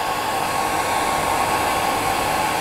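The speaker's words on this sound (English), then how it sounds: "I'm just going to use the dryer to show you." A hair dryer blows steadily on a freshly tied Glenfarclas salmon tube fly, a loud constant rushing whir with no pauses and no voices.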